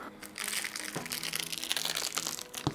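Protective plastic backing peeled off a keyboard wrist rest for a Keysme Lunar 01 keyboard, a close, continuous crinkling and crackling rustle with a few sharper crunches near the end, no talk.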